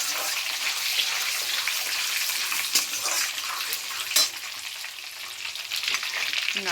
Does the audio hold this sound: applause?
no